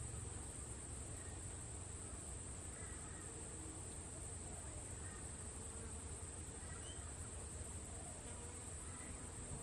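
Honeybees streaming back into their hive in a cottage garden late in the day, a steady dense buzz and hum filling the air throughout, close and continuous with faint background rustle.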